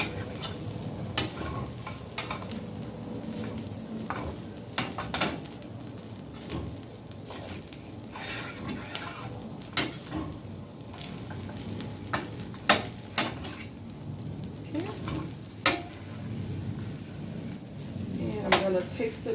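Ham fried rice with peas and scallions sizzles steadily in a pan while a utensil scrapes and stirs with scattered clicks, moderately close and fairly quiet.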